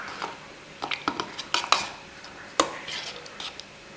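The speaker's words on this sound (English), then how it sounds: "mix it up with my spoon to ensure that there is no lumps in it" A spoon stirring and crushing African black soap in a bowl, with irregular clinks and scrapes against the bowl's side and a soft squishy undertone, close up and without speech.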